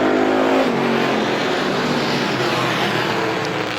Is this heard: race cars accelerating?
yes